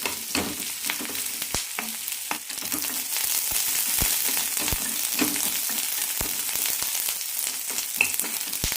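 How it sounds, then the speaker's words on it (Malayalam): Onions and green chillies sauté in oil in a pan, a dense continuous sizzle broken by frequent sharp clicks and scrapes of a spoon stirring against the metal, close and fairly loud, with no talk throughout. "മൂന്ന് പച്ചമുളക് ഇത് കൂടി ഇടാം പിന്നെ വഴറ്റാം"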